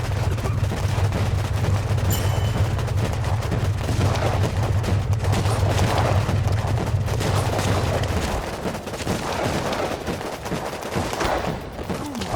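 Guns fire in the war strategy game WarPips as a continuous, dense stream of rapid shots and distant booms over a low steady hum, thinning slightly in the last few seconds.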